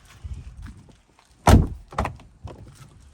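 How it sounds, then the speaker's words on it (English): Door of a 2023 Jeep Wrangler Sport S opening, heard as a close, loud latch thunk followed by a couple of softer clunks as the door swings, with no talk. "And then you open your door."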